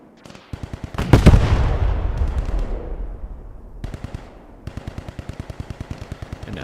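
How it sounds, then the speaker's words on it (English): A tank firing in the WWII shooter Squad 44: a heavy, booming cannon shot that rolls away, surrounded by rapid, rhythmic bursts of machine-gun fire close by. "And now there's a tank shooting here."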